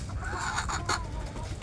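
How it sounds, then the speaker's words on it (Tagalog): Chickens clucking close by in a backyard where rabbits are feeding, several short throaty clucks over a dense outdoor background, no speech. "Mga manok."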